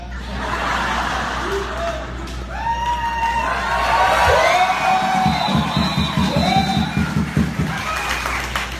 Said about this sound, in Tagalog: palakpak kayo ng palakpak